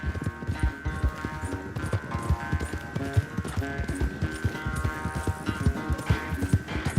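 Rapid, rhythmic hoofbeats of a galloping horse in the video game Red Dead Redemption 2, steady and close, layered over a sustained musical drone.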